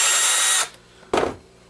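A power drill backs screws out of an old Intellivision controller: a high whirring burst of about half a second, a short pause, then a second brief, close burst.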